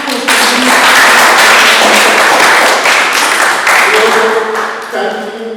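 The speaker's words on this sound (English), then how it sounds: "Can you give me a round of applause?" Audience at the Cadalfest festival breaking into loud, dense applause that holds steady for several seconds and then tapers off, a voice briefly heard near the end.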